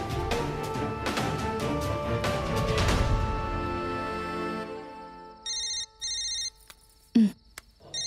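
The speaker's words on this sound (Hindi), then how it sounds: "भूमि के फोन।" A telephone rings twice in short electronic bursts after a fading wash of noise, followed by a thud and a brief clatter.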